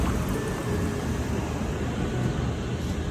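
Ocean surf rolls in a steady, broad wash heard from a hotel balcony overlooking the beach in Huntington Beach, with continuous wind-like noise and no distinct breaks between waves.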